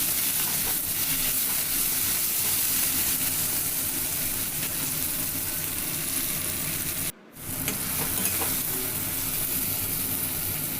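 Tomatoes with salt frying in a wok, a dense continuous sizzle heard close up with faint stirring, broken by a short gap near the end.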